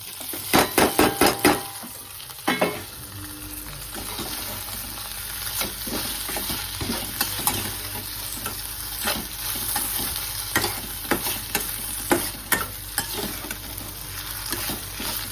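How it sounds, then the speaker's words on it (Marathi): Okra stir-fries in a hot pan with red chilli powder and spices: a steady sizzle broken by sharp clatters of a spatula stirring against the pan, loudest at the start, with no talking. "आणि लगेच आता ही भेंडी टाकून द्यायची."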